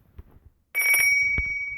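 A phone ringtone chimes during Dragon Ball Z Dokkan Battle, a sustained bright electronic tone starting abruptly after a quiet moment and holding steady, fairly loud and close.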